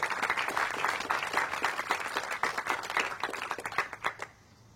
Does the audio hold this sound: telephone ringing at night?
no